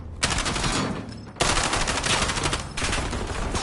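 Three bursts of rapid automatic gunfire in a video game aim at a hostile UAV overhead, each loud rattling volley separated by brief pauses.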